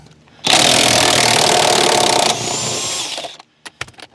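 A power tool with a socket and extension removes a seat belt bolt during a gear plate install, starting abruptly in a loud, close, sustained buzzing whir. Its pitch shifts partway through, then it stops and a few clanks follow.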